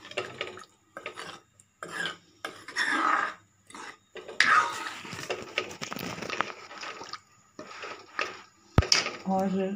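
A spoon scrapes and stirs matar paneer in a cooking pot, giving soft wet swishes and metallic scraping in irregular strokes, close and moderate, with a clear clink near the end.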